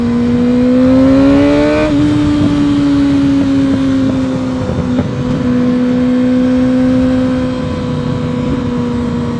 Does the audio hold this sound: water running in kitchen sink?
no